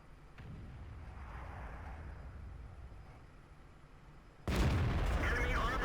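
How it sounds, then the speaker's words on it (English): A tank cannon shot strikes the back of an enemy turret in World of Tanks: quiet battlefield ambience, then one sudden loud blast with a rumbling tail near the end, under a commentator's voice. "Great shot into the back side of his turret there"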